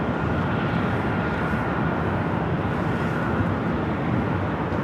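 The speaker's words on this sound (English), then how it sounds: "Our next arrival is Aer Lingus A330." An Aer Lingus Airbus A330 arrives on the north side of Los Angeles International Airport. Its engines make a loud, steady jet roar that stays constant through a few seconds.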